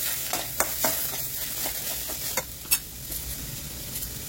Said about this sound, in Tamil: வெட்டி வச்ச அவரைக்காய், தக்காளி ரெண்டையும் ஆட் பண்ணிட்டு நல்லா வதக்கி விட்டுக்கலாம்